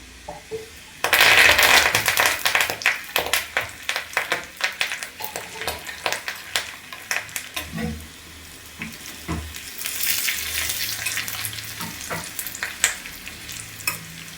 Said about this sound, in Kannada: ನೋಡಿ ಚೆನ್ನಾಗಿ ಫ್ರೈ ಆಗಬೇಕು ಈ ಮೆಣಸಿನ್ಕಾಯಿ ಎಲ್ಲ ಚೆನ್ನಾಗಿ ಫ್ರೈ ಆಗಬೇಕು